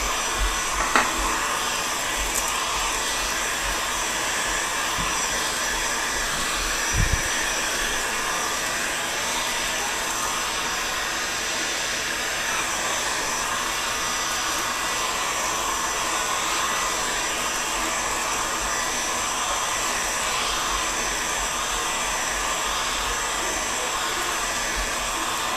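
A hair dryer blows hot air in a steady, unbroken whir for nearly half a minute, with only a couple of faint clicks and knocks along the way.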